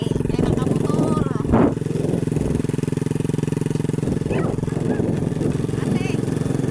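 A motorcycle engine runs steadily close by throughout, a constant low drone with voices talking over it.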